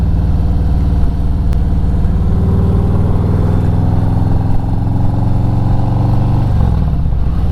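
A 2020 Harley-Davidson EGlide motorcycle with performance tuning and tab mufflers runs loud and close, a steady deep exhaust rumble with a brief rev that settles back toward idle near the end.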